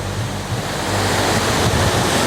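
Devnala waterfall in Dindori, Madhya Pradesh, pours over rock as a loud, steady, broadband rush of falling water, close and continuous with no talk.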